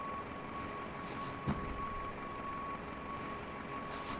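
A ground service vehicle at a simulated airport sounds a steady, evenly spaced reversing beep at moderate distance over a low engine hum, with one short thump partway through.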